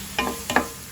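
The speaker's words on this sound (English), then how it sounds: "Just give it a stir in the mix" Capsicum being stirred into softened onions in a frying pan, a couple of short scraping stirs over a light background sizzle.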